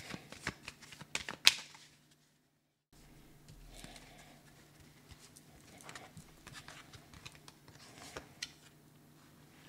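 Tarot de Marseille cards being shuffled, soft riffling and flicking in quick clusters, faint and close, with a brief silent pause before a steadier stretch of gentle card handling.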